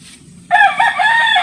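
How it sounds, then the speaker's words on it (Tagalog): A rooster crows loudly and close on a rural farm, one sustained cock-a-doodle-doo call that starts abruptly and carries on to the end over a low background rumble. "May manok."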